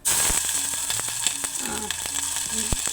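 Sautéed prawn curry sizzling loudly in a pan, with scraping stirs and small clinks of a utensil against the pan over the steady close frying hiss.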